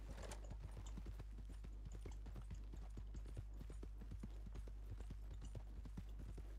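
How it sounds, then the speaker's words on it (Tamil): Horse hooves clip-clop in a steady, fast running rhythm in Red Dead Redemption 2 gameplay, the repeated thuds clear and close over a low constant background hum, with no talk. "என்னடா குதிரை ஓடுது"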